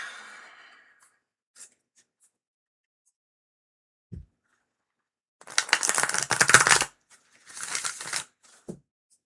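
Tarot cards are shuffled in two brisk riffling bursts separated by a short pause, close and fairly quiet, with a faint breath and small taps around them.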